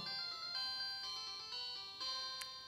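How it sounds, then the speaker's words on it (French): A DZ09 smartwatch plays its power-on chime, a bright electronic ringtone-like melody of several sustained tonal notes lasting under three seconds, with no speech. "Déjà, le son à l'allumage, il est différent."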